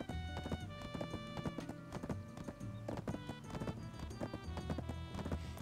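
Hooves of a galloping horse in a race in the video game Black Desert, a loud, fast, steady clip-clop rhythm over game music, up close.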